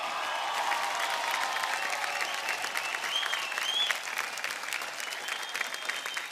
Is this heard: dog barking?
no